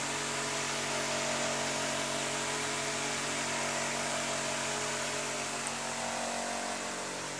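A 775 DC motor whirs steadily at low volume, an even hum with a faint hiss that holds constant throughout.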